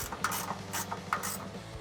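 A 13mm ratcheting wrench tightening a bolt on Bronco rocker guards, several quick close ratchet clicks in short bursts with pauses between.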